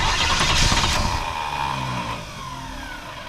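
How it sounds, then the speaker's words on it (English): Car being rebuilt from scrap for a movie set, its engine cranking on the starter with a loud, steady whirring churn that fades into a lower running hum. "Go, hit the starter."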